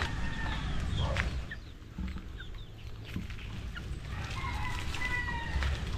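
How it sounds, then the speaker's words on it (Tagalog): Chickens cluck and call sporadically outdoors amid steady background noise, with a few brief bird-like chirps scattered across the scene. "Yung manok nakikipaghabulan sa akin."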